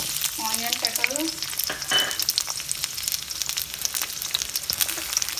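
Onion and capsicum sizzle in hot oil in a kadai, a loud, steady frying hiss with a spoon scraping and stirring near the start, continuing without a break.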